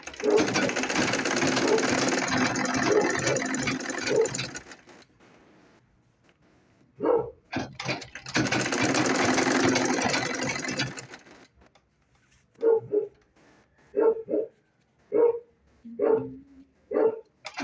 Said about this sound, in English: just sew this.